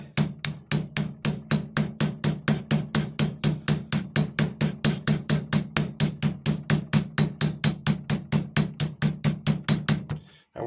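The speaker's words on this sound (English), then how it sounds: "We're going to use the round end here on a 16-ounce hammer." A 16-ounce hammer's round end strikes a rivet to flatten it, about forty sharp metallic blows in a fast, even rhythm, close and loud, with no talking.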